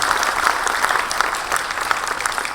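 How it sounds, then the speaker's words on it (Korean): A lecture audience breaks into brisk clapping at a sales motivation talk, a short, lively burst of many hands close by with no voices over it. "공감이 가시면 박수 한번 부탁드리겠습니다"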